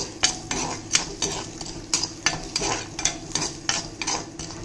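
Chana dal dry-roasts on low heat in a pan for a Tamil spice powder. A spatula stirs and scrapes it in a fairly regular rhythm of sharp clinks and rustles over a faint, soft sizzle.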